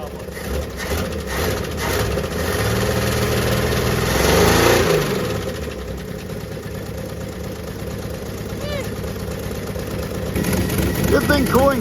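A crusty 1978 Plymouth Volare's Slant 6 engine idles with a steady, rough mid-pitched rumble that swells briefly and then settles. Possible intake valve trouble is suspected, and people talk over the running engine.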